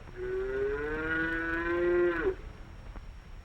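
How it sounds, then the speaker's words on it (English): A single long, loud moo from a hungry calf calling for its mother on a horse farm, rising slightly and held for about two seconds before breaking off, then quiet. "Buttercup the calf is just waking up too. He is hungry and wants his mother"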